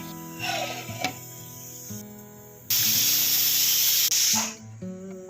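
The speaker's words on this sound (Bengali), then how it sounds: "একদিকে প্রেশার কুকারে হচ্ছে বন্ধুরা ডাল এটা হলো মুগ ডাল বসিয়ে দিয়েছি" A pressure cooker cooking mung dal lets out a loud, steady burst of hissing steam lasting a couple of seconds, with a quieter tonal background before and after.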